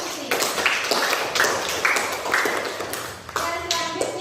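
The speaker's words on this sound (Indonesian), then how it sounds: "untuk tepuk tangan Mbak Susi." A classroom group claps in uneven bursts of applause, close and lively, with voices mixed in beneath the clapping.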